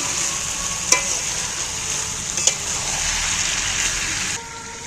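Chicken curry meat sizzling steadily as it fries in a pan, with a couple of sharp scraping stirs cutting through the continuous hiss, close and fairly loud before the frying noise suddenly drops lower near the end.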